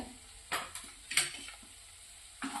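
Masala spices and cumin seeds frying in a pan for restaurant-style egg masala: a soft, steady sizzle, with a few brief scraping stirs of a spoon against the pan. Quiet and close, with no voices.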